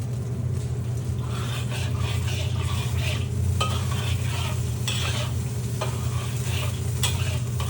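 Clams in a pan with wine for pasta alle vongole: a constant close hiss of steaming and sizzling over a low rumble, with occasional utensil scrapes and clicks and no talking.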